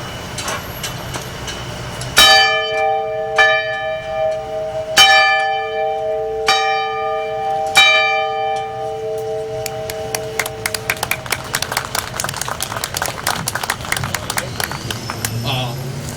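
A hand bell rung at an outdoor Veterans Day ceremony in Lincoln Park, four clear strikes a few seconds apart, each ringing out and decaying, followed by a run of applause-like clapping.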